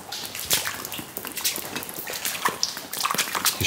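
Water drips from the ceiling of a damp, moldy, long-abandoned holiday park building, with scattered irregular plinks and splashes into standing water over a faint wet background, no talking.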